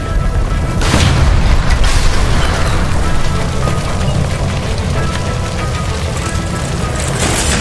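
A gas line explodes in the game L.A. Noire: a loud close boom and blast, then a sustained roaring rumble with crackling debris that lasts to the end.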